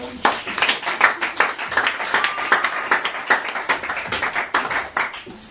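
A church congregation at a Sunday service claps along in a steady, rhythmic beat, loud and close, with voices faintly mixed in among the hands.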